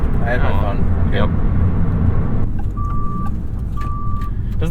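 A 2022 Maserati MC20 gives two evenly spaced, steady electronic beeps like a reversing truck alarm, heard over loud road and engine noise inside the car while people talk.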